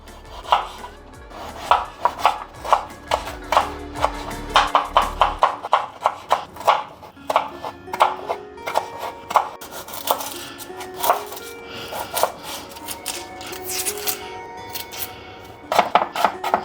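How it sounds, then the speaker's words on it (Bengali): Potatoes sliced into thin long strips with a knife: a rapid run of crisp knife strikes on a board, close and sharp, with a few brief pauses and a clatter of utensils between bursts. "আলুগুলো লম্বা লম্বা করে চিরব, খুবই পাতলা পাতলা করে।"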